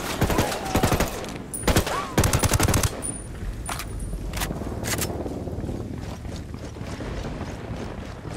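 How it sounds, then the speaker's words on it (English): Automatic machine gun fire in the video game Ghost Recon Wildlands, with several loud, rapid bursts of shots near the start and single sharp cracks later, over a steady background rumble. "One with some machine guns."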